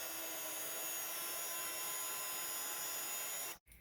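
A heat tool blasts steadily over embossing powder on a Christmas card, a loud continuous whooshing roar of hot air that runs unbroken for several seconds, then cuts off abruptly near the end.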